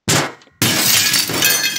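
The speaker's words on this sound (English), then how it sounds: "some glass shards catapulted off of the floor and flew right into Monty's eye" Glass smashing onto a floor in a Five Nights at Freddy's-style game scene: a loud close crash, a brief pause, then a second bigger shatter with tinkling shards spreading out afterward.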